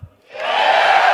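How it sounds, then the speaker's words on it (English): A live crowd at a Destiny 2 gameplay reveal event erupts into sustained applause and cheering after a brief pause, loud and continuous to the end. "You're going to applause after every sentence."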